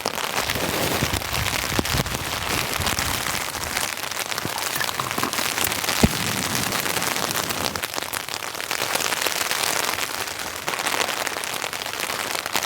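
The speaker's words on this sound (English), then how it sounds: "It would be good if this rain stopped now. It seems to just be picking up out there." Heavy rain drums steadily on a tent during a camping trip in a rainstorm, a dense, continuous patter with scattered sharper drops, unbroken and fairly loud throughout with no voices.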